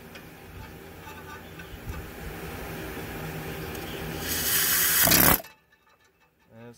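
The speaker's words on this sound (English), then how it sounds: "just get this air chisel and put it right there on the edge of it and get it to turn just a little bit" Air chisel hammering against a torque converter bolt on an LS 5.3 with a 4L60E transmission: a steady rattling buzz that builds louder, then cuts off abruptly, leaving near silence.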